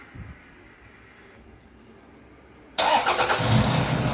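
Quiet background, then a 2007 Toyota Land Cruiser engine abruptly fires up and settles into a steady, fairly loud idle close by.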